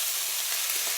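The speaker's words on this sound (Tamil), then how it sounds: "வெங்காயம் சேர்த்து ஃபஸ்ட்டு நல்லா வதக்கிடுங்கம்மா." Chopped onions frying in a pan with cumin seeds, a steady close hiss of sizzling oil throughout, with no talking.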